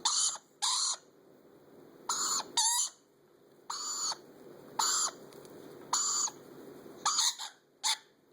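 Shrill, harsh lorikeet squawks come in short repeated bursts, some doubled, loud and close over a quiet hum.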